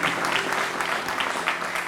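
Studio audience at a French-language TV show breaks into applause, a steady, moderately loud wash of clapping hands from a modest crowd, without talk over it.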